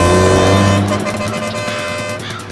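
A car drives up a road at night toward a police stop, its engine loud and close with a tone that shifts as it arrives and then rumbles on more roughly.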